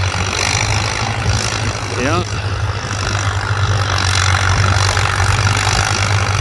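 An antique tractor engine runs at a plow day under full throttle. It gives a steady, loud, low-pitched drone that swells slightly, and a voice speaks briefly over it.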